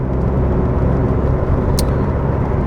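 SAAB 9000 Turbo Classic cruising on a freeway, a steady loud cabin drone of engine and road noise with a brief high hiss near the end.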